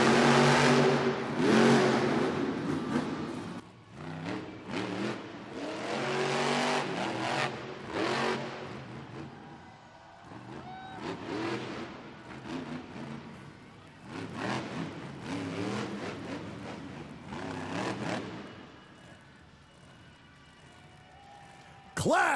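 Monster truck engine at a Monster Jam freestyle event in Sacramento, revving in repeated loud surges with pauses between, under an arena announcer's voice and crowd noise.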